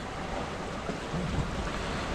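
A steady wash of sea noise with a faint low rumble, like water rushing past a hull in a gentle breeze, as a sailing boat crosses half-metre waves near Shetland.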